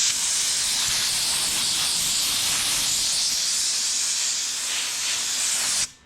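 Hot steel tack welds are cooled off with water, giving a loud, steady hiss of steam that holds for several seconds before cutting off abruptly.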